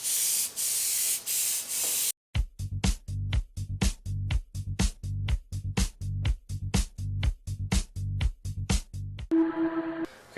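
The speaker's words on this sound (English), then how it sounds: "I will open up the roller on this Aztec airbrush here to open up the cone and" An Aztec airbrush blasts paint with the roller opened wide for a broad cone: a steady hiss for two seconds, then a rapid series of short, sharp spray bursts in an even rhythm, close by, ending in a brief tonal hum.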